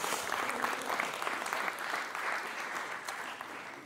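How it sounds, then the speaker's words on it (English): A church congregation at a Poole campus applauds with steady, dense clapping that blends into an even wash of sound and holds without a break. "can you give Pat Singleton a round of applause"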